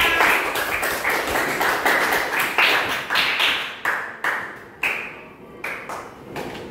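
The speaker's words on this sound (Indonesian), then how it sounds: "Tepuk tangan untuk kita semua" A classroom of children and their teacher clap in a series of sharp, rhythmic claps that grow sparser and more separated toward the end, loud and close, with no talking.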